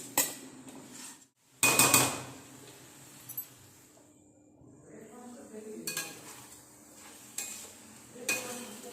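A mixed vegetable curry is stirred in a pan, with loud scraping bursts of a utensil against metal separated by quieter simmering sizzle and a brief silent gap.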